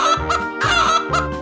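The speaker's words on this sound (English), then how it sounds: "chicken," A cartoonish chicken cluck effect from a 3D animal slide video game sounds three times in loud, rhythmic, honking bursts with no talking.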